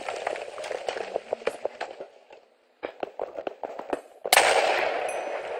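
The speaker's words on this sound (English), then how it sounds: "That was a large explosion." A large explosion in a zombie video game bursts out after a string of sharp crackling pops and bangs, with a brief lull before it and a loud roaring tail that follows.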